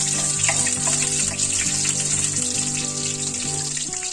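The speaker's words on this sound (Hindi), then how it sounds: "1 चम्मच राई डालेंगे, सरसों, काला सरसों, और 2 से 3 हरी मिर्च को हमें 2 भागों में चीरा लगाया था, तो इसे थोड़ा तड़कने देंगे" Black mustard seeds and slit green chillies crackle in hot oil for a beans and potato dish, a steady close hiss with scattered pops alongside a tonal hum.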